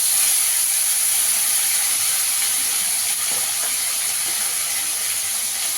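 Chopped tomato dropped into a hot pan of niramish sabji gives a steady, bright sizzling hiss that holds evenly from start to finish, close and fairly loud, with no voices.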